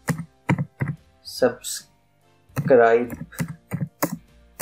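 Computer keyboard keys tapped while entering a subheading into a Canva design, in short clicky bursts mixed with someone speaking Hindi close to the mic.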